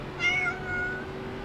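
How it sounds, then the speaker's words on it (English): A pet cat meows once, a clear drawn-out cry close by, then a fainter trailing call over steady background hum. "Got my daughter's cat behind me"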